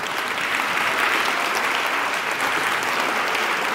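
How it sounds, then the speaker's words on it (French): Audience at a tech awards ceremony applauding the winners, a dense, loud and sustained wash of clapping from a large crowd, even from start to finish with no talk. "encore une fois, on applaudit tous les gagnants."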